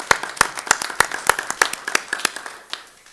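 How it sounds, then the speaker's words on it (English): At a Township of Union committee meeting, a small audience gives students a round of applause: a handful of sharp, distinct claps in a loose, fairly regular rhythm, thinning and fading out after about three seconds. "So again, let's give them a round of applause."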